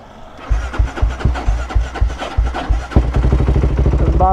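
A cold 470cc motorcycle engine fitted with a quickshifter cranks and catches, then settles into a steady, rapid idle putter close by, with no talk.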